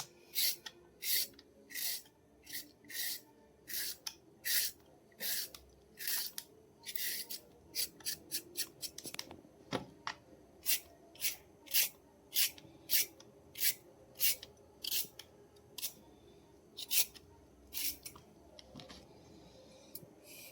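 A carrot being peeled with repeated rhythmic scraping strokes, each a short sharp rasp, about one or two per second, close and clear against a quiet background.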